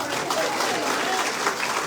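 Steady, full crowd applause from the audience at a political meeting in Mauritius, dense clapping running continuously throughout.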